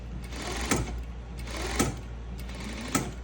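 A SewingGold SC550FL-P sewing machine fitted with a needle positioner runs in three short bursts, each ending in a sharp stop with a mechanical clunk, close and fairly loud with no talking.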